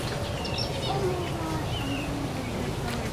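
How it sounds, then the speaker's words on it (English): Several bird chirps and short whistled calls at an animal park aviary, heard over steady background noise while people talk nearby. "Look at that bird."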